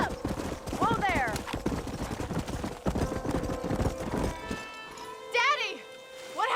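A horse gallops in the Red Dead Redemption video game, with rhythmic hoofbeats drumming steadily and close, a whinny near the end, and spoken dialogue and shouts over the clatter.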